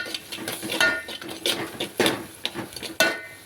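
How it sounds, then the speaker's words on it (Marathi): Spatula scrapes and clinks against a pan as coriander is tossed with bitter gourd in a home-cooked stir-fry, a few distinct strokes spaced irregularly over a soft background. "कोथिंबीर टाकून परतून घेतला"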